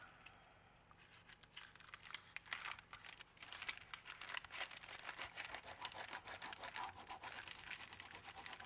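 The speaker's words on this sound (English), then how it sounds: "I love the sound of the crinkling bag." Paper bag being handled and folded while making a mini journal, a soft continuous crinkling and scratching close by, quiet and steady over several seconds with small crackly bursts.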